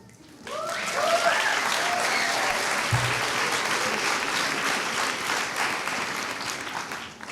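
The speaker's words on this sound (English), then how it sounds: "So we should also clap for them." Graduation ceremony audience at a 2016 multicultural commencement breaking into broad, sustained applause that swells quickly, holds steady for several seconds and tapers slightly at the end, with a few faint voices early on.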